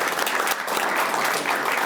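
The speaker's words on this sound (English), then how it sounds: "let's give one more round of applause" An audience at a community talk on bicycle-friendly communities gives a round of applause, a continuous wash of many hands clapping at moderate loudness for a couple of seconds.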